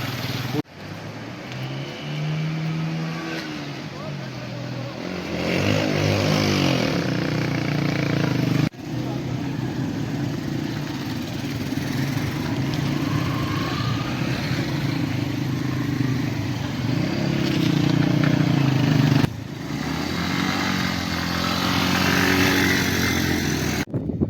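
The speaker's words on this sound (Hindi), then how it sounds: "अभी ये हमारे बाइकर चल पड़े हैं" Motorcycles set off along a dangerous mountain track to Gullai meadows base camp in Pakistan's Allai valley, engines revving and droning close by with rising and falling pitch, while people talk over the noise.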